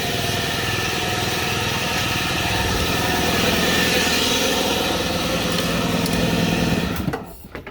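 The A/C compressor of a 2002 Honda CR-V runs with a steady, loud mechanical drone and whine under the engine hum. It holds constant for several seconds, then cuts off abruptly near the end, with no speech.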